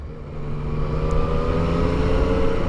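A 2016 Yamaha XSR 900 motorcycle cruising in second gear at low speed, its engine a steady, close hum that rises slightly, with wind noise and no talk.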